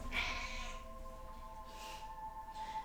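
A house cat gives a clear, fairly close meow, followed by two softer meows, over a steady background hum.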